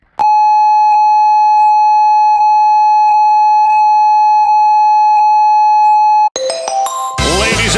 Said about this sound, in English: For the next 15 seconds, this phone will conduct a test of the emergency ringtone system.